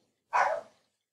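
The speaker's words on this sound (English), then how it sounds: "I'm sorry about the constant barking in the background." A single dog bark rings out once from the background, short and fairly loud, then fades into silence.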